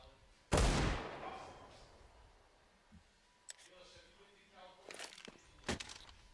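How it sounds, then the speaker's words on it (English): A loud sharp Desert Eagle pistol shot in a Counter-Strike match on the Inferno map, followed by fainter clicks and several more distant shots, under commentator talk. "Quality deagle shots here on Inferno."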